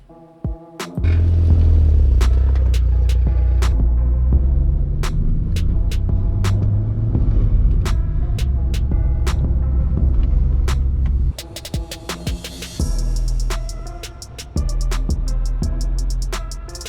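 Audi TT 225 driven on a twisty road after a rear sway bar install, heard from inside as a steady low engine drone and road rumble with occasional clicks and shifts in load, continuous throughout.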